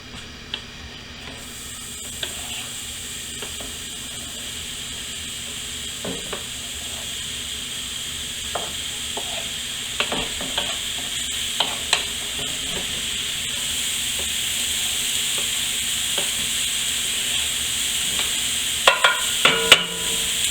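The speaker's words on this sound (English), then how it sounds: "here's our veg heading into our 12-inch pot. So we're going to cook the veg" Vegetables fry in a 12-inch cast iron pot with a steady, loud sizzle and hiss that holds throughout and swells slightly over time, broken by occasional light taps and scrapes of stirring, close up with no talking.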